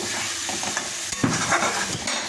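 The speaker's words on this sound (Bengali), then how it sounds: "তো আলুটাকে একটু কষিয়ে নেব এই লঙ্কার গুঁড়ো আর হলুদের গুঁড়োর সাথে" Potatoes fry in a pan with chili and turmeric powder, a loud, close sizzle broken by scraping stirs, with no talk.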